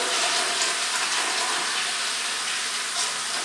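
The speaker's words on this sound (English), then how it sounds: "continue running the water and rinse this all off" Tap water runs steadily and loudly into a toilet bowl being rinsed with a mop after a mineral shock cleaning treatment, a continuous close hiss with no talking.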